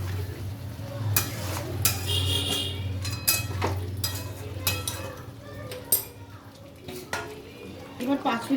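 Chicken being stirred in a pan with a splash of spiced water, a utensil scraping and clinking against the metal over a low steady cooking hum, with scattered short knocks throughout.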